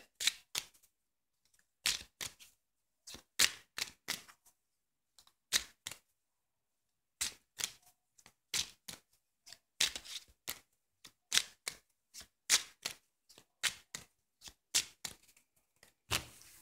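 Tarot cards are shuffled in short, crisp bursts of riffling and tapping, separated by brief silences, close and fairly quiet.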